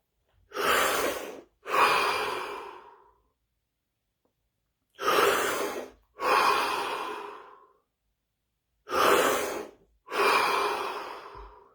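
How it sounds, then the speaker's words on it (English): Three deep breaths, each a sharp inhale followed by a long exhale, close and loud, separated by stretches of silence. "3 deep breaths"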